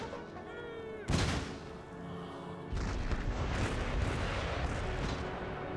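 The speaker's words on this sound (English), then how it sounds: "And my howitzers fire what they like." Howitzer artillery firing in the game Empire Total War: a heavy, loud boom followed by a sustained rumbling barrage of distant cannon fire, set against a busy battlefield ambience.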